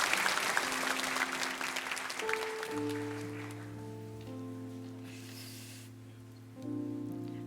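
Applause from a church congregation fades as sustained organ or keyboard tones rise underneath, then swells again briefly near the end.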